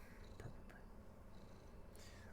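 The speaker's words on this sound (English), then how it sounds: "Purr." Domestic cat purring close by as a low, steady rumble through the whole stretch, with a couple of faint clicks and rustles, no talking.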